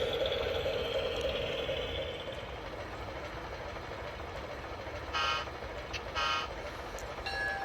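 A small model coal mine tram on a garden railroad rolls slowly with a steady mechanical whir, and a couple of brief higher squeaks or clicks near the end.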